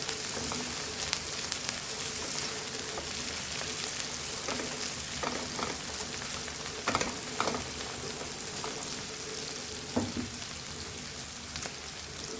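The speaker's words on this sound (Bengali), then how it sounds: "পেঁয়াজটা আমরা মিডিয়াম ফ্লেমে ভেজে নেব।" Onions fry on a medium flame in a pan while an egg curry is cooked, a continuous close sizzle with a few stirring taps and scrapes, and no one speaks.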